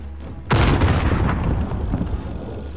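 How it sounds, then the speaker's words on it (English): A grenade blows up in the video game Call of Duty: Modern Warfare with one sudden, heavy, close boom. A long rumbling roar and debris-like crackle follow and fill the rest of the moment. "Grenade out!"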